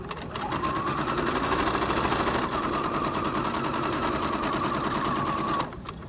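A sewing machine stitches a quilt with a fast, even mechanical chatter, close and steady for several seconds before stopping near the end.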